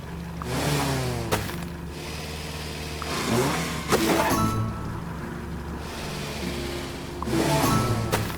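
A tractor engine in the farming video game Farm Together, revving up repeatedly in rising surges with idling between them, loud and close with no talking.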